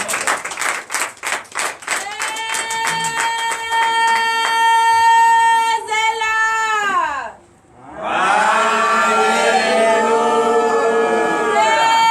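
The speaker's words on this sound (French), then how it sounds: "Donnez l'acclamation à l'Éternel" A church congregation at a Sunday service in Comè, Benin, gives the Lord an acclamation: rhythmic clapping opens, then loud sustained voices shout and ululate, dip briefly, and surge again into a long, dense crowd roar.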